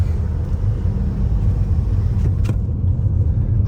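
A car drives past on a busy rural road near an old mill site, a steady close rumble of engine and tire noise filling the clip without any talk.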